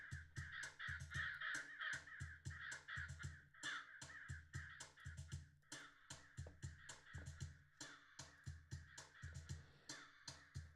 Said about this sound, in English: let's do some like crows